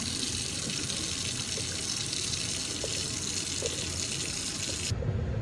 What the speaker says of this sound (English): pour that water off, and then add more water just to get rid of the excess salt